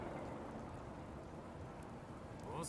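Steady rain falls on a wet city street corner in the Death Mark video game, a continuous hiss of drops with a faint rumble underneath and no talking.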